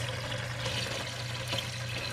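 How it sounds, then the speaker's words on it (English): Whey from raw milk cottage cheese poured steadily into a bowl, a continuous close liquid splash and trickle with a low hum beneath, no speech. "I'm just gonna pour it until I get to the majority of the curds."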